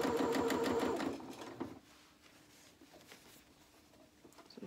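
A domestic sewing machine stitches the hem of a pair of boxer shorts, a steady, close whirring run for just over a second before it stops, leaving a quiet room with faint handling noises.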